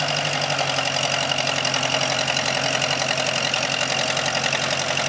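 A 1956 Ferguson F40 tractor with a Continental Z134 engine runs steadily in forward gear, its loud, close mid-pitched engine drone holding an even knocking rhythm throughout, with no talk.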